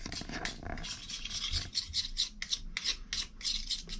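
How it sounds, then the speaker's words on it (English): Close, rhythmic rasping strokes as a scraper works crusted cleanser buildup off a toilet beneath the seat, repeated scrapes in quick succession with no talking. "I'm gonna scrape some of this thick stuff off right into the toilet here"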